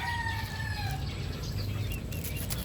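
Butcher gamefowl, including Butcher/White Kelso and Butcher/Grey crosses, cluck and crow in a yard, with a long crow and scattered clucks over a low, steady background rumble and no talking.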